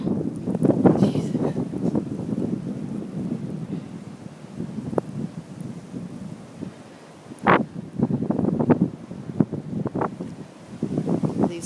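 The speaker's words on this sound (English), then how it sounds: "The wind is so intense." Strong wind gusts in a Chicago snowstorm buffet the microphone in loud, uneven surges with brief lulls between them, heard close and rough throughout.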